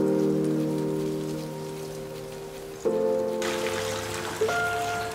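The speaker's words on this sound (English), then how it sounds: "cycling between two different watering cans. So I'll be watering with one while the other one is refilling" Water pours steadily from a watering can onto indoor plants, a continuous trickling splash heard up close, shifting in tone as the flow changes partway through.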